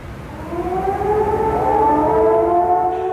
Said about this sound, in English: air raid sirens wailed over Baghdad.